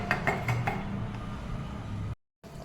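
Clinking metal and glassy knocks as a lid settles onto a pot of boiling Chettinad crab curry, with light kitchen clatter, then a brief silence.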